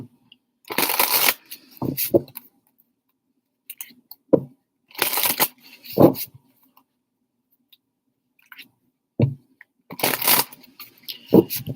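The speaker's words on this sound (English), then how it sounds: "New deck, it really doesn't want to shuffle." A new deck of African goddess tarot cards being shuffled, several separate bursts of stiff riffling and clicking with quiet pauses between them, close and alone.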